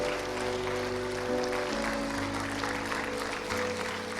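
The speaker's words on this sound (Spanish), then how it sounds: "Mientras alguien pasa, usted puede seguir aplaudiendo." A church congregation applauds steadily at an evangelical service, a dense, even wash of many hands clapping that carries on without pause under a faint background hum.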